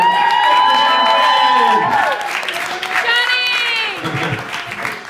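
A comedy club crowd cheers, whoops and claps loudly for a comedian, with shouted voices rising over the applause before it tapers off.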